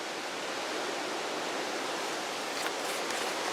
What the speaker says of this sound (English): You can hear the wind, listen.